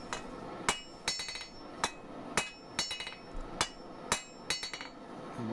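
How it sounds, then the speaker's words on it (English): Sharp ringing hammer blows on steel at the corner of an anvil while forging a sgian dubh, each strike followed by quick lighter rebound taps, repeating at a steady pace. "deepen it against the corner of the anvil with the hammer"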